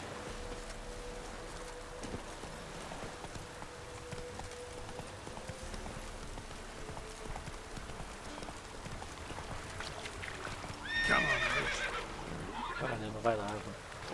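A horse in The Witcher 3 video game gives a loud neigh and whinny near the end, following steady clip-clop hoof sounds under game ambience and rain, with a player talking throughout.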